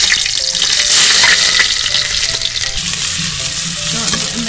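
Finely chopped onions hit hot oil in a preheated handi for a Pakistani carrot and potato salan, giving a loud, steady, close sizzle and crackle that runs throughout with no talking.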